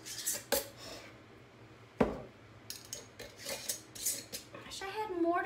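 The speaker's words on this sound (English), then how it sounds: "And then we're going to place them into the canner." Glass canning jars of raw-packed pork lowered one by one into a canner, giving a few sharp clinks and knocks spaced over several seconds, fairly close, with faint chatter between.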